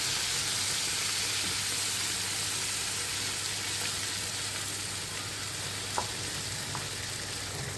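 Shrimp frying in butter with garlic in a pan, a steady, close sizzle with faint stirring scrapes and no speech.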